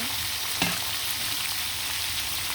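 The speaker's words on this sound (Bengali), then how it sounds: "সবগুলো মুরগির মাংস আমি ভেজে নেব" Chicken pieces fry in oil in a pan with a constant, close sizzle and a single faint clink near the start, no voices.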